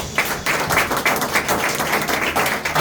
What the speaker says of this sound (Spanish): Den un aplauso a Jesús.